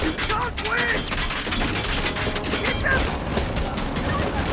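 Rapid video-game gunfire crackles in dense bursts from a helicopter attack, with loud mechanical clatter filling the space while voices talk over it.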